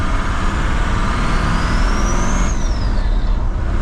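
A 6.0 Powerstroke diesel truck with a triple VGT turbo setup pulls hard in first gear, a loud, steady engine roar with a rising then falling turbo whistle riding over it, close and continuous with no talk.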